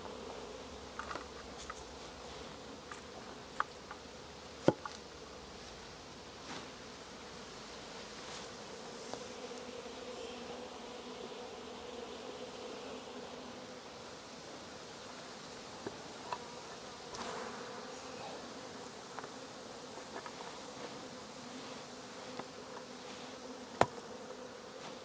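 Honeybees from a split buzz steadily in front of the hive, a dense continuous hum with a few brief louder passes close by, with no talking.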